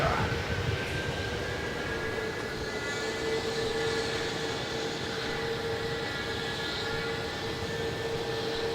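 Jet airliner landing on runway 27 at Melbourne Airport, a steady distant engine roar with whining tones held throughout, heard from the terminal.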